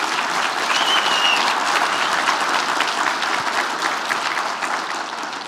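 A keynote audience claps steadily in a dense, even wash of applause that holds throughout and tapers slightly at the end.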